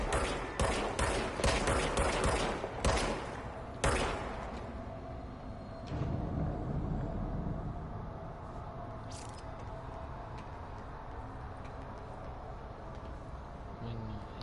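A pistol firing in the game Control: a rapid string of loud, close shots in the first few seconds, then a couple of heavier single blasts before the scene settles into quieter ambient noise.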